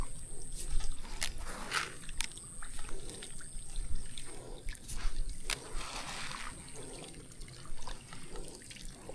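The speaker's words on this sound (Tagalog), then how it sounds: "sobrang daming tubig dito" Lots of water flows and trickles steadily nearby, a continuous splashing stream with irregular drips and gurgles throughout.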